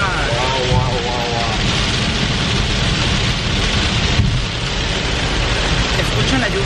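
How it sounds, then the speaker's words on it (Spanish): Heavy spring rain pours down steadily in a dense, loud wash, with people talking over it now and then. "¿Escuchan la lluvia?"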